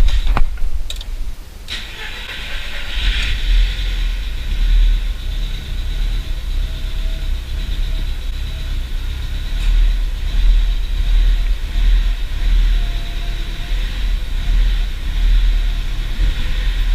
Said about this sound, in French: on y va pour le premier démarrage